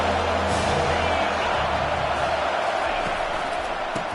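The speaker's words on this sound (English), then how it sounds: "Decibels rising as the crowd gets behind this defense on third down" Football stadium crowd roaring for the home defense on third down, a loud, sustained wall of cheering and noise that swells steadily, with a voice faintly underneath.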